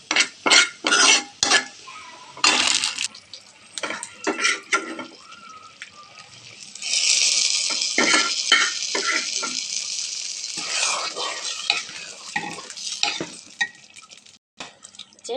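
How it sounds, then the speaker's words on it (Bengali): Crushed onion and garlic fry in hot oil for a khichuri tempering, with a burst of sizzling midway among clattering pot, utensil and stirring sounds, close and fairly loud. "এখন এখানে দিয়ে দিচ্ছি পেঁয়াজ আর রসুন থেতো করে, এটা একটু পোড়া পোড়া হয়ে গেলে এই খিচুড়িতে ঢেলে দেবো"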